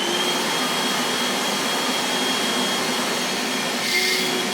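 A shop vacuum sits on a bucket honey bee vac and runs with a constant loud, even whine and rushing airflow the whole time, with no voices over it.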